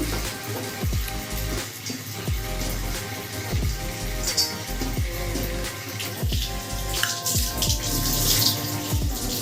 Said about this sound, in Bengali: পেঁয়াজ রসুন আদা সব কমপ্লিট কাটা তো সেগুলো এবার এক এক করে ধুয়ে নিচ্ছি